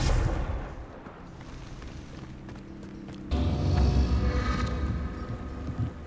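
A Confringo fire spell in Hogwarts Legacy: a low rumbling blast swells, settles, then a second heavier explosive burst erupts midway and rolls on with crackling debris, loud and close.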